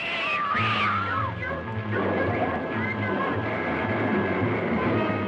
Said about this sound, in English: The movie opens on a wandering alley cat. It meows in hunger.